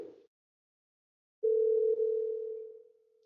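A steady telephone dial tone starts after a short pause and a brief click, holding one continuous pitch for nearly two seconds before fading out.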